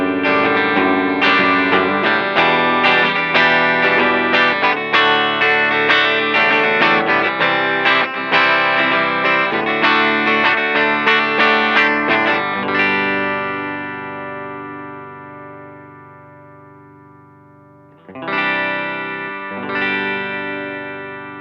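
Electric guitar through an Iridium pedal on its Fender Deluxe setting with an EP booster, playing clean strummed chords and single notes in a steady rhythm, then letting a chord ring out and fade before a couple more strums.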